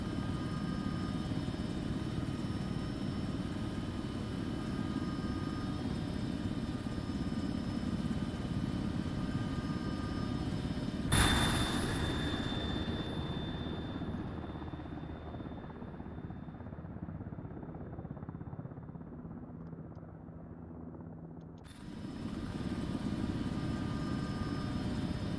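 A military helicopter taxiing on an airfield runway in the ArmA 3 game, its steady rotor drone and turbine whine loud and continuous, briefly thinning as if the view shifts, then returning at full strength.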